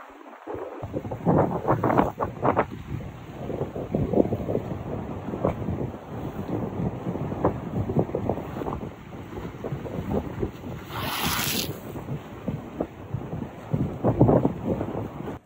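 Strong wind roars and buffets the microphone continuously on an island anchorage during a storm, with gusts rising and falling and a brief higher hiss near the end; no talking.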